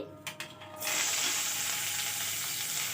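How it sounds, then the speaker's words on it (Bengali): Chopped onion and green chilli hit hot mustard oil in a kadai and burst into loud, steady sizzling frying that continues close up after a few brief clinks. "কড়াই দেখুন কিছুটা পরিমাণ সর্ষের তেল দিয়েছি এবার দিয়ে দেব পেঁয়াজ কুচি আর সামান্য একটু কাঁচা লঙ্কা কুচি"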